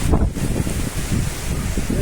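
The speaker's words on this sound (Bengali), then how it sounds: "কঠিন ঝড়, কঠিন ঝড়, সর্বনাশ হাওয়াতে।" Strong gusting wind roars and buffets the microphone in low, heavy surges without a break.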